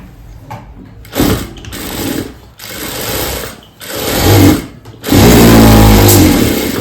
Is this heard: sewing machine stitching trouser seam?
yes